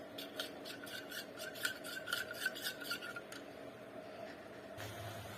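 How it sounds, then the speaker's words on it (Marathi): A spoon scrapes and stirs custard powder into milk in a bowl, giving a rapid rhythmic rasping for about three seconds that then fades to quiet, close and fairly faint. "कस्टर्ड पावडर दुधामध्ये चांगलं मिक्स करून घ्यायचे"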